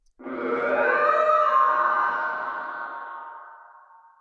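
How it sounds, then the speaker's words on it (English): A monster sound for a video game, time-stretched with Logic's flex time tempophone mode, gives a long grainy, warbling drone with an echoing, siren-like sweep that rises quickly and slowly fades out over about four seconds. "So you can hear that kind of strange, grainy sound that gets made as you stretch this out more and more."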